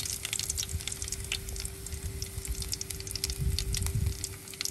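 Dried boneless fish pieces, rinsed and drained, frying in a pan of oil over low heat, giving a steady close crackling sizzle with scattered pops and no voices.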